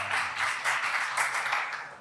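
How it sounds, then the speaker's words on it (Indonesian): Students of a vocational high school clapping together in a short, steady burst of applause, fairly close and filling the space without any talking. "Tepuk tangan"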